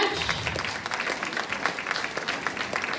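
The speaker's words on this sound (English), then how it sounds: "Let's give a round of applause to this band," Audience applauding a band at an evening show, a steady burst of many hands clapping close and full, with faint crowd murmur underneath.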